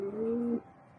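Pigeons in a racing pigeon loft give a single close, clear coo lasting about half a second, with no voices around it.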